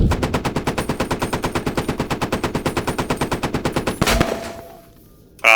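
Rapid machine-gun fire in a video game, a long evenly spaced burst of close, loud shots that stops abruptly with a final crack, then near silence.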